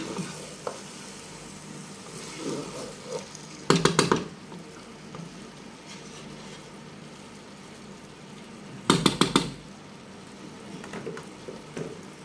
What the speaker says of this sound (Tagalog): Ilagay natin yung kalahating portion ng kanin, tapos haluin natin, ganyan.